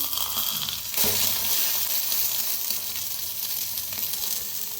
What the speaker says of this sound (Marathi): तर मस्त आपला अंड भाजायला लागलेला आहे बघा.